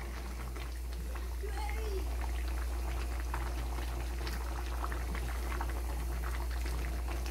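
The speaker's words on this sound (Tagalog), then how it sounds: "Pakuluan ko lang." Noodles boil in beef broth with a continuous bubbling simmer over a low hum, and a voice speaks faintly underneath.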